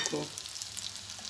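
Shami kebabs frying over medium heat give a steady, close sizzle with soft crackles that run throughout, and no one speaks.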